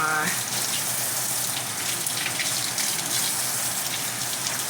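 Steady broadband rush of water pouring from a tap, continuous and fairly loud, filling the whole clip with a faint voice briefly beneath it.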